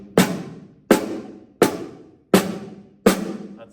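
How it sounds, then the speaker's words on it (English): Five drum flams with the grace note played too high, so both sticks land nearly together in a single sharp popcorn-like crack, spaced about 0.7 seconds apart, close and with no talk. "First of all, we might have too high of a grace note. That's going to create more of a popcorn sound like this."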